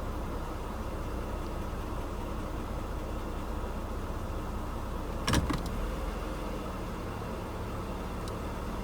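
A 1992 Mercedes W124 300E with the M103 engine and noisy lifters idles in drive, giving a steady, even drone with one brief sharp click partway through and no talk.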